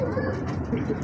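Soft low cooing from a Mamdeen breeder pigeon, close and continuous over a brief stretch with faint background noise.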